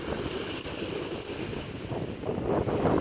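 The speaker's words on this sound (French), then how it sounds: "Rien que le bruit des vagues comme ça, c'est mon kiff quoi." Ocean waves wash onto a beach with a low rolling roar, swelling slightly toward the end, mixed with wind buffeting the microphone and no voices.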